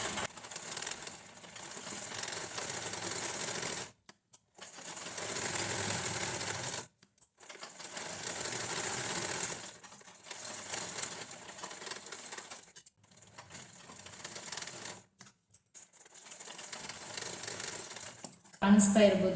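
A sewing machine stitches a blouse lining in about six rapid whirring runs separated by short pauses, close and fairly loud.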